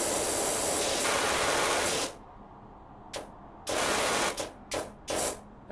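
A pressure washer in the video game PowerWash Simulator blasts a loud, steady hissing spray for about two seconds, then cuts out and bursts back in several short, uneven spurts.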